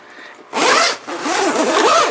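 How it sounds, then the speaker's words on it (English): A zipper on a new Mars Hydro grow tent is pulled open in two long, loud, rasping strokes close by, separated by a brief pause. "The zipper, let me see,"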